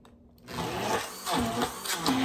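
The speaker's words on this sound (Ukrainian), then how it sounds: "переб'ємо блендером" A kitchen blender whirs in short bursts after a quiet start, blending butter and eggs, its motor pitch rising and dipping as it mixes.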